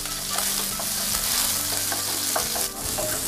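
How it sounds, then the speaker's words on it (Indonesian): Garlic, shallots and ginger sauté in hot oil, a steady loud sizzle with scraping stirs of a utensil breaking through, close and continuous with no talking. "Setelah minyak panas, lalu masukkan atau tumis bawang putih,"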